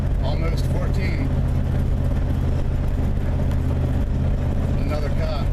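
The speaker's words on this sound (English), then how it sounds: "It kind of feels good to drive this truck again for so long, after so long." A Chevrolet Suburban truck rolls down the road with a loud, steady low rumble of engine and road noise throughout, while someone talks over it from inside the cab.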